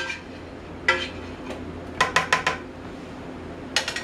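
Metal utensil scrapes and clinks against a pan as stroganoff mixture is poured in and scraped out, a few sharp clatters in short bursts with quiet gaps, close by, no talk.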